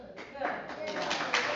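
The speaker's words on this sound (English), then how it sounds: "see all these people clapping." A crowd at a Long Branch city council meeting claps in a steady patter of many hands, building slightly toward the end while a voice talks over it.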